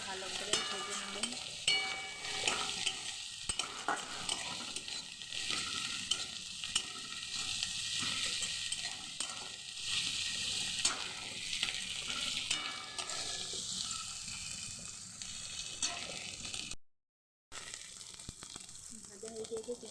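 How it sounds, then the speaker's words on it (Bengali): Ginger and garlic frying together with onions in a pan, giving a continuous close sizzle with repeated stirring scrapes, with a brief silent gap near the end. "আদা রসুনটা ভালো করে ভেজে নেব।"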